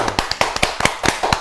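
A small audience claps for an author in a sparse, fairly close run of about a dozen distinct hand claps, sharp and slightly irregular in rhythm.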